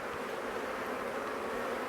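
Honey bees buzz on a frame lifted from a Maisemore Poly Commercial hive, a close, steady drone of many insects droning together without pause, fairly soft and with no talking.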